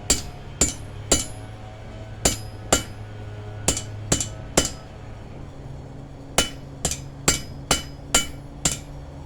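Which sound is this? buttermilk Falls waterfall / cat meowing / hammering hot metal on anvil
hammering hot metal on anvil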